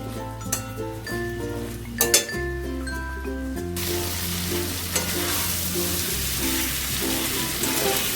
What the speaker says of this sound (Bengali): আমি সুন্দর করে মাছটাকে কষিয়ে নিচ্ছি